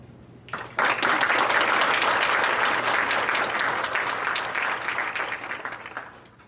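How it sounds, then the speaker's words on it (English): An audience at a children's theatre performance bursts into sustained applause, a dense wash of clapping that starts abruptly, holds steady for several seconds and gradually thins out, heard from within the room. "Let's give a lot of respect and applause to these kids"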